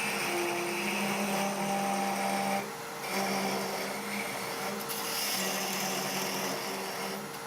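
A wood lathe turns a long-stemmed goblet while a parting tool cuts into it, giving a continuous close whirring hum with steady tonal lines, briefly dipping twice as the cut eases, with no talk.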